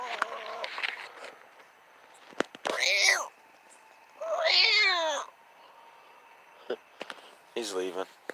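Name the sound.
person imitating a cat in heat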